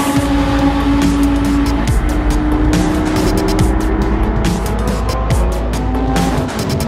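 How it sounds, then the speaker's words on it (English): Lamborghini Super Trofeo race car at about 160 mph on a high-speed Kansas track, its engine a loud, steady, unbroken roar with a slight tire squeal and no talking. "it's pretty entertaining inside of a car at 160 miles an hour"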